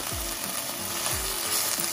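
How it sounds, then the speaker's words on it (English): Shrimp for pinakbet fry in a pan with a steady close sizzle, with a few soft scraping strokes of stirring spaced through the short stretch. "cook the shrimp, maybe about 1 minute or so. Just stir it up."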